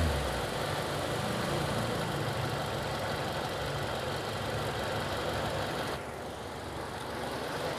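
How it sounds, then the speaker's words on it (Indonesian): A rebuilt Toyota Innova petrol engine idles steadily and loudly up close, a continuous even drone that drops slightly in level near the end, with no talking. "sepertinya dari suara mesin sudah hilang untuk suara tek-teknya"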